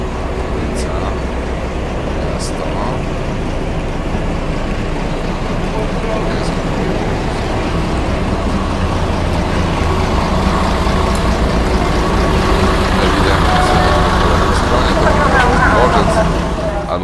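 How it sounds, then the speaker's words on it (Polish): A bus passes along a city street near a station stop, its engine a continuous low rumble with steady traffic noise that swells toward the end of the passage. "Po której stronie słychać mijany przez ciebie autobus?"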